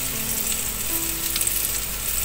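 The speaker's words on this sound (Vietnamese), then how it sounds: "Mình sẽ chiên vàng đều hết những cái mặt của miếng bánh mì của mình." Slices of sandwich bread fry in a pan, giving a steady, close hiss and sizzle with no pauses.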